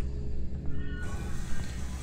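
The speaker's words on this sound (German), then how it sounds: "Katze, ich höre dich." A cat meows in a tense survival horror game set aboard a space station, one short mewing call heard over a low, droning ambient hum.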